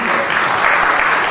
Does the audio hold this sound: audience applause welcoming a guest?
yes